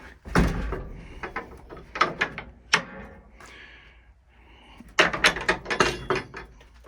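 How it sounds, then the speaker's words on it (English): Old wooden door of a ramshackle ranch shed being handled and opened, with several clattering knocks, creaks and rattles in uneven bursts and a louder cluster near the end. "Doors open."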